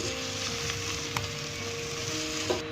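Shrimp frying lightly in hot oil in a pan, a steady close sizzle throughout with a couple of brief utensil clicks and no voices.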